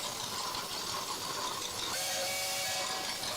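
A 1904 steam engine in a parade sounding its steam whistle, a sustained breathy hiss with a tonal whistle rising partway through, fairly faint and steady.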